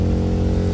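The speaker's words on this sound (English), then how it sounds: "Second gear, revved up pretty good." Small engine of a BMW Isetta revving in second gear, a steady, loud buzzing drone with a strong low pulse, brief and continuous.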